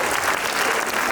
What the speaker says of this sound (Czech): Poprosím o potlesk.